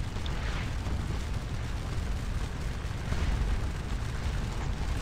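Cannon fire in Scourge of War Waterloo booms as a continuous low rumble of distant artillery, steady and dense with no single shot standing out, and no voices.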